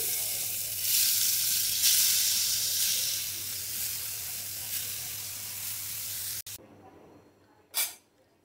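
Taki fish hits hot oil in a pan with a loud, steady sizzle that runs for about six seconds and then cuts off abruptly, followed by quieter hiss and one short burst.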